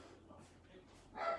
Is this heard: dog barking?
yes